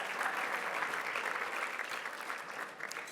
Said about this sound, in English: Let's give him another great round of applause